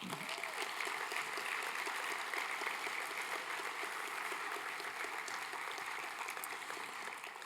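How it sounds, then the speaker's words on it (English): Tourism industry audience at the DestinationQ 2025 conference in Queensland applauds the minister, a steady wash of crowd clapping, fairly faint and even from start to finish. "So can we give the minister a big clap?"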